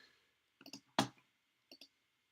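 Sharp, close mouse clicks in a quiet room while opening files in editing software: a quick double click, then a louder single click, then another quick pair.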